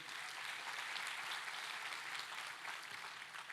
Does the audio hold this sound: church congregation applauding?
yes